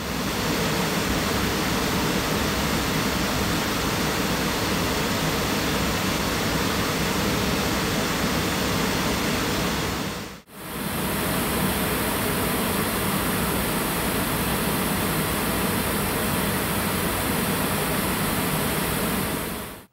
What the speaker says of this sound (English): let's try to play some pink noise through them